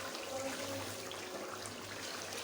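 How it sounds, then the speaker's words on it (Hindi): Water poured from a glass into a pot of partly cooked, tender potatoes for aloo kofta curry, a steady close pouring and trickling wash lasting a few seconds with no talk over it. "अब इस टाइम पे पानी डाल रही हूँ मैं"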